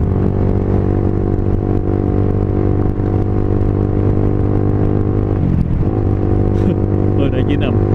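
A motorcycle with a 63.5 mm bore block cruises in sixth gear, its engine giving a steady, loud, continuous drone with a faint whir on top while someone talks over it.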